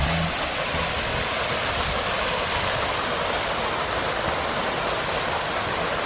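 A loud, constant roar of the Cachoeira dos Primatas waterfall in Rio de Janeiro, dense and unbroken, close by with no voices.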